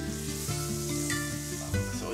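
Onion sizzling steadily in a hot frying pan as filling for chochoca, Chilean rolled potato bread from Chiloé, with occasional stirring scrapes over the continuous loud crackle.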